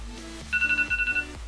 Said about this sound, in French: Elle est nulle ma sonnerie là.